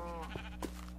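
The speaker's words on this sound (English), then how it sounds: "Oh, that's what the dogs are going after. They're trying to get the sheep." Minecraft sheep, with the Yushatak HD texture pack loaded, bleat twice in quick succession, clear and close over a steady game hum, with no talk.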